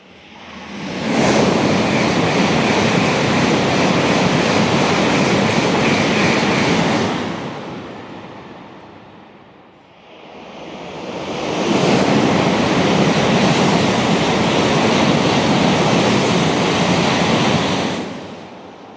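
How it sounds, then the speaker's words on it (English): A non-stopping Nozomi or Hikari Shinkansen bullet train rushes through a quiet station near Mt. Fuji, making a loud, sustained roaring whoosh that swells quickly, holds for several seconds and fades, and then a second equally loud surge follows. "wait until the Nozomi or the Hikari, which are the faster Shinkansen that doesn't stop here, passes by"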